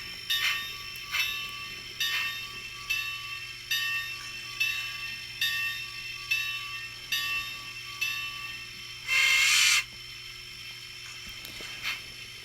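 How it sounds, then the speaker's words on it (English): A steam locomotive's bell rings in a steady, evenly spaced series of metallic clangs with ringing tails, about one per second, and a brief loud hissing burst breaks in near the end. "I don't find the steam engine bell as annoying as the diesel bell"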